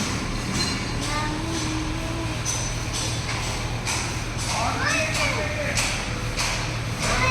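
A metro train rolls along its rails with a steady roar and occasional wheel squeals, while someone talks over it.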